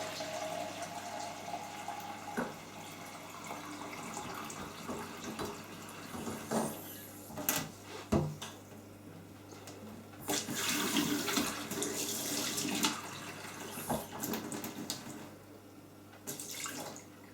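Hot and cold tap water runs into a jug while the mix is adjusted, a soft, fairly quiet rushing stream with splashes and surges rising and falling, no talk over it.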